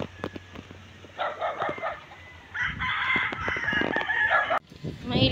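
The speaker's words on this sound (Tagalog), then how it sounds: "Napakaraming manok, mga kasan lover." A large flock of chickens and roosters on a farm cluck and squawk in a busy, overlapping chorus that swells louder toward the end, with occasional crowing mixed in.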